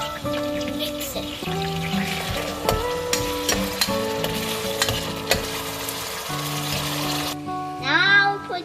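Tomatoes being stirred into chicken curry frying in a pan, a steady sizzle with repeated scraping and clinking of the spoon, close up, over a constant tonal background hum.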